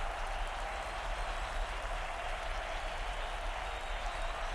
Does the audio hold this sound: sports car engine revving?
no